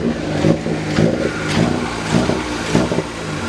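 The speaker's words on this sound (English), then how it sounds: "Broken flywheel, friend? Is that what that noise was?" A car engine with a broken flywheel, heard idling with a rough rhythmic pulsing about every half second, close and fairly loud, with no talk.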